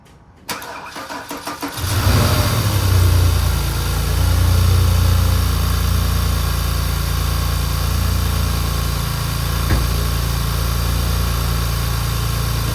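Porsche Cayenne engine after repair, cranking briefly before catching, then settling into a loud, steady idle with a deep rumbling drone close by.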